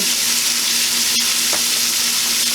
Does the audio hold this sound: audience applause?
no